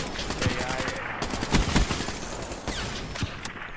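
KN-44 gunfire rings out during a Call of Duty Blackout match, a dense series of rapid shots and impacts layered over a constant game background.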